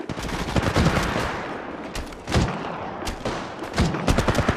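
Rapid gunfire in the mobile battle royale game Apex Legends Mobile, dense bursts of automatic shots and impacts crackling loudly in quick succession with no pauses.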